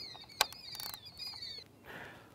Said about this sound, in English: we're going to remove the 2 side screws so we can remove the plastic cover